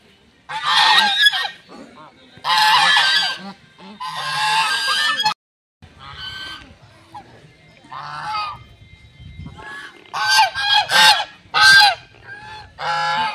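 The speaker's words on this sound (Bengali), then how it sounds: "কত হাঁস!" Geese honk loudly and repeatedly in bursts close by at a camp in the Ayodhya hills of Purulia, with short gaps between calls and a quiet stretch midway.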